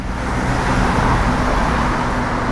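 A used pickup truck engine idles steadily with a low, rumbling drone and no talking, holding constant the whole time.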